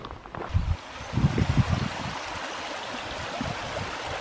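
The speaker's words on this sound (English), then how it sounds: "Creek's doing well." Creek in Bell Smith Springs, Shawnee National Forest, flowing steadily with a broad, continuous rush, a few louder splashy gurgles near the start, close and alone without voices.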